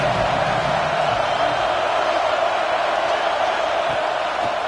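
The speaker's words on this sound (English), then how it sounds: "Fans are bringing the noise on 1st and goal." Stadium crowd at a UCLA college football game roars steadily on first and goal, a dense continuous wash of cheering and noise with no break across the span.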